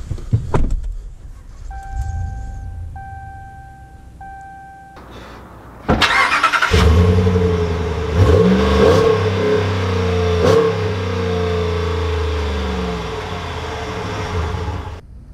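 A 2020 Ram 1500 Big Horn Night Edition pickup: a whirring power window and steady chime tones first, then the engine cranks and fires, settling into a loud, close, rumbling drive with throttle swells.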